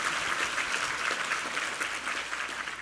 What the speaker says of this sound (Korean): 우리 힘찬 격려의 박수 부탁합니다